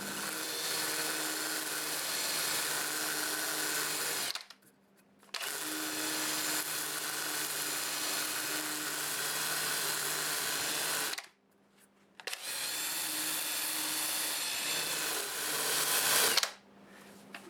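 A power sanding tool with a Sandiflex abrasive works the bark of a Siberian elm cookie on a lathe, a steady loud whirring drone that cuts out briefly twice before resuming, with no speech.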